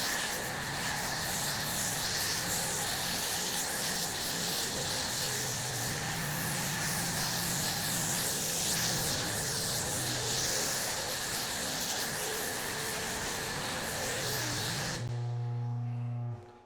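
Foam cannon spraying soap onto a muddy CFMoto UTV after a 200-mile trail ride, a steady close hiss of spray that runs continuously and then cuts off abruptly near the end.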